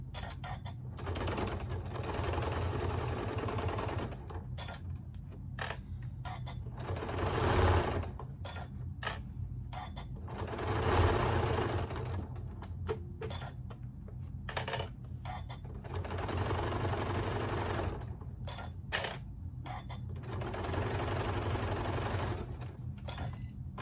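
A sewing machine runs a straight stitch along a quilted table runner in repeated bursts of whirring, clicking mechanism, separated by short pauses.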